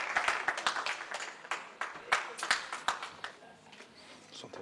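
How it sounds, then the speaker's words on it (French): An audience applauds a kickboxer at the Kick's Night 2024 weigh-in: scattered, uneven claps that are loudest early and thin out toward the end, over a busy room. "On peut l'applaudir, s'il vous plaît."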